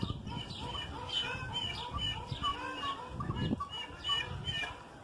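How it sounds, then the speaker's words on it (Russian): Pheasants at a zoo enclosure clucking and chirping in a busy layered chorus of short repeated calls against outdoor background noise, moderately near, no talk. "Курочки, это фазаны."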